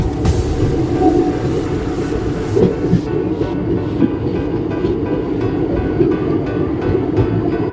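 Passenger train running from Delhi towards Gurgaon, heard from inside as a loud, continuous rumble with faint rhythmic clacking of the wheels over the rails.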